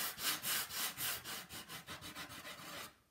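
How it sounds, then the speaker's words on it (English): Painted wooden tray being distressed along its edges and corners, likely sanded by hand: a quiet, steady run of rhythmic scrubbing strokes that speed up, close by, with no talking. "distressing this along the edges and the corners where it would naturally get distressed"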